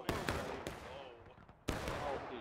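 Musket gunfire from soldiers in the woods in the War of Rights video game, a few sharp cracks spaced unevenly with a louder close shot near the end, echoing over a rumbling battlefield backdrop with voices faintly present.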